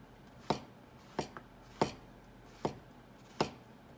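A knife cuts thin slices through washed chard stems on a cutting board. Five crisp, separate chops come about one every second, close and fairly quiet, with no talking.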